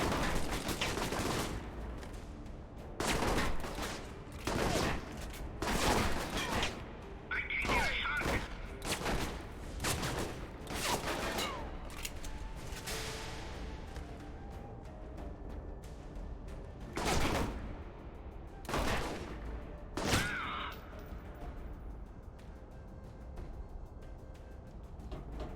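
Bursts of video game gunfire crackle in rapid volleys and scattered shots over a steady game background, with a voice talking between and over the shooting throughout.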